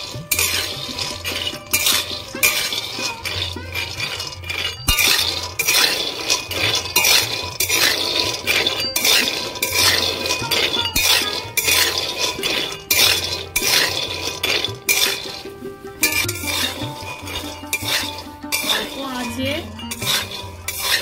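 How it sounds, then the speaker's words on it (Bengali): Peanuts are stirred and roasted in a hot wok, about 500 grams at once, with a constant loud scraping and rattling of metal against metal and a dense clatter of nuts throughout. "এখানে 500 বাদাম আছে, একসাথে এইভাবে ভেজে নেব।"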